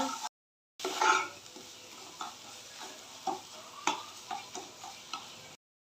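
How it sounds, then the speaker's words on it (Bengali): Cumin, salt and turmeric being stirred through hot oil in a pan for a pointed gourd fish curry, with repeated soft scraping strokes over a light sizzle, close and moderately quiet. "জিরা আর পরিমাণ মতো লবণ ভালো করে নেড়ে চেড়ে মিক্স করে নিচ্ছি"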